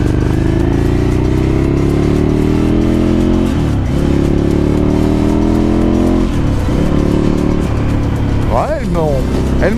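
A Ducati Scrambler 800 motorcycle, still being run in, accelerates hard with rising engine pitch through several gear changes, loud and close as from the rider's position, with wind roar throughout.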